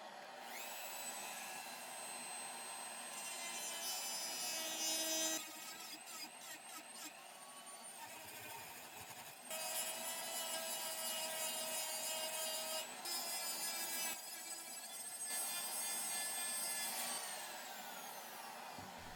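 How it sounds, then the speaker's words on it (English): A high-pitched Dremel rotary tool with a barrel sanding attachment whines steadily while sanding walnut wood, with brief pauses and changes in pitch as it presses against the surface. "I'll use this barrel sanding attachment on my Dremel"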